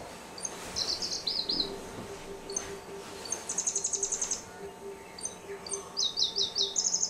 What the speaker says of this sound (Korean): 난 새소리가 너무 좋아.